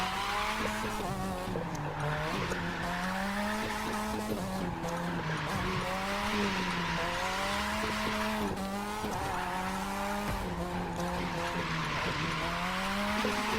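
A Mazda drifts in The Crew 2 video game, its tires squealing in long wavering howls over a steady, loud engine roar that rises and falls with each slide, continuous with no pauses.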